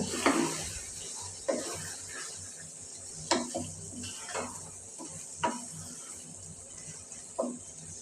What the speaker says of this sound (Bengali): এখন আমি ঢাকনা দিয়ে দেবো সবজিটা আমি আবার নেড়ে দেব